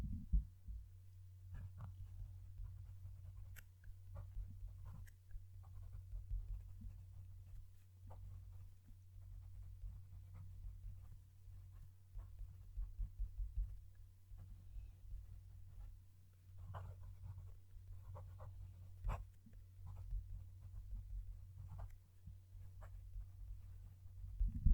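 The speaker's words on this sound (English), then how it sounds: "I'm going to move the mic to the page so you can hear the pen write." A Wing Sung 699 fountain pen writes on paper close to the mic, soft scratchy strokes ticking irregularly over a low steady hum.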